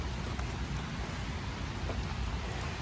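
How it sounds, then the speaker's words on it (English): Steady rain falls on a grey day in Minneapolis, a dense even hiss of drops with a few brief louder patters, continuous and fairly close, with no voices. "See, that's a nice rainy day here in Minneapolis."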